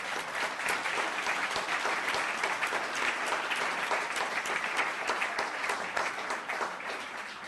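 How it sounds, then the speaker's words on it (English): Sustained applause from the audience at a town council meeting, dense steady clapping that fills the room for several seconds without any talk over it. "Another round of applause."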